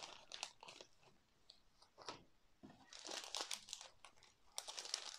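Small plastic bags for diamond painting storage crinkle and rustle in close, irregular bursts, with no talking.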